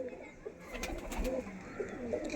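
Soft, low cooing of a Madras pigeon murmurs steadily against faint background noise.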